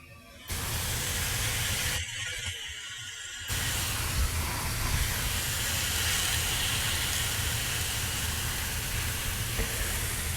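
A burger patty sizzles in a hot pan with a steady, dense hiss. It briefly quiets for a moment, then carries on evenly and fairly loudly.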